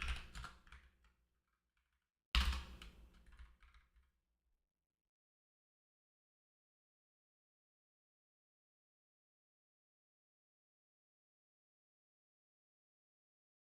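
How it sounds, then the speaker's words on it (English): Two short bursts of clicking on a computer keyboard, close and fairly quiet, with silence between them and after them. "I'll type it this way."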